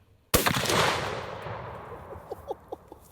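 A single sharp rifle shot firing a boat-tail bullet cracks loudly outdoors and rings out in a long decaying echo, followed by a few faint, soft clicks.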